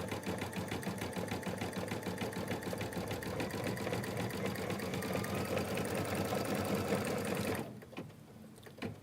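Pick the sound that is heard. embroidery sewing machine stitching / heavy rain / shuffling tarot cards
embroidery sewing machine stitching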